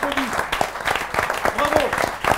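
Audience applause for a school quiz team at a semi-final, steady clapping running under a host's voice that speaks over it throughout.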